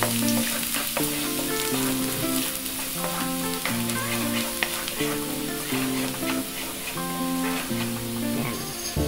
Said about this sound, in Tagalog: Isahin natin yung bawang.